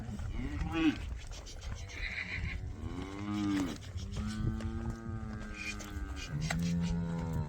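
Heifer calves mooing repeatedly as they are loaded onto trailers on sale day, several drawn-out bellowing moos one after another, close and loud, with handlers calling out to them in between.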